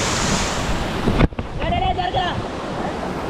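Rushing water at the top of Madassery waterfall in Thiruvananthapuram forms a steady, loud outdoor roar with gusty wind buffeting the microphone, broken by one brief dropout.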